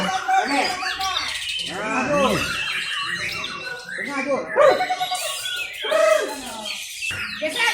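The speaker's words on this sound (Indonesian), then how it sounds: "final battle Kicau Mania untuk kategori murai" Oriental magpie-robins sing in the final round of a songbird contest, bright overlapping whistles and chirps rising and falling continuously at close range, with a voice talking over much of it.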